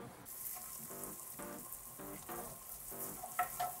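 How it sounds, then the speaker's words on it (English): Pan on a stovetop being deglazed after cooking stuffed leg of lamb, a steady wet sizzle and hiss with faint scraping and small clinks recurring throughout. "I'm gonna bring this over to my stovetop and I'm gonna deglaze it"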